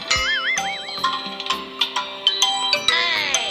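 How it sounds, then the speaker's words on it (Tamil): A phone alarm ringtone plays a bright, busy melody of chiming tones, dings and warbling synth notes, loud and close, with no voices over it. "வாழ்க்கையிலே இந்த ரிங்டோன் தாங்க பயங்கர ஸ்ட்ரெஸ்ஃபுல்"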